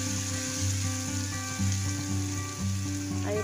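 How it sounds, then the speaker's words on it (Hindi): Ginger garlic paste frying in a pan for a mutton keema dish, a steady close sizzle with faint crackles running throughout, alone with no talk. "अदरक लहसुन का कच्चापन खत्म हुआ तक इसको भूनना है"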